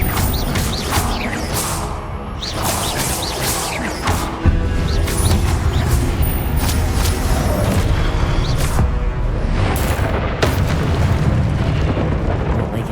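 Repeated fiery spell blasts in Hogwarts Legacy, loud booming explosions with crackling debris and combat effects in a dense, continuous barrage.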